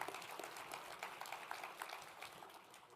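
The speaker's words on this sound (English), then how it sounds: "Round of applause, please." At a city's state-of-the-city address, an audience applauds steadily for about three seconds with a dense, even clatter of many hands, heard faint and distant.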